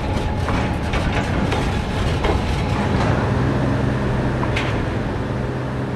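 An EL3 electric mining locomotive, built in Hennigsdorf and weighing 75 tonnes, runs on a heritage coal railway in Meuselwitz, giving a steady rumbling roll with scattered rail clicks and clanks, fairly close and continuous.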